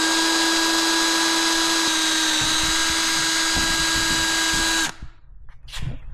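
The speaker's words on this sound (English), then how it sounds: "So now I'm gonna drill these guys by hand" A power drill bores holes by hand through a plexiglass deck hatch, a loud steady whine with a strong even tone that runs for about five seconds, then cuts off into quiet handling noise.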